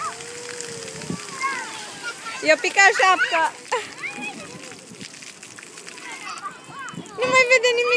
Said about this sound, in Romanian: Uite apa cum străpește acolo!